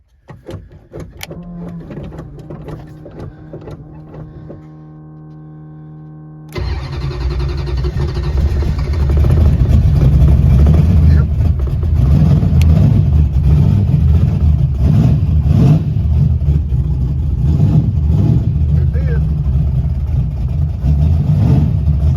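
A Mopar mini starter cranks an older small-block V8 briefly, then the engine fires and roars into a loud, rough, steady idle up close that keeps running to the end.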